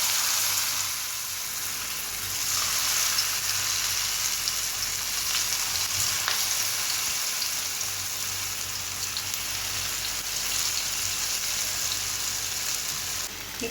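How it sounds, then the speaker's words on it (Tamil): Marinated potato pieces for potato 65 fry in hot oil with a steady, close, crackling sizzle that goes on without a break and with no talking. "இப்போது இதை ஒன்று ஒன்றா தனித்தனியாக போட்டு வறுத்துக்கலாம்."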